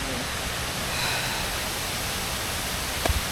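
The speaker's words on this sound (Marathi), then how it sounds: "वॉटरफॉलचं नाव आहे केंबुर्ली धबधबा" Kemburli waterfall in the Dapoli area of the Konkan, a loud, continuous broadband roar of falling water with no break, a brief knock just before the end.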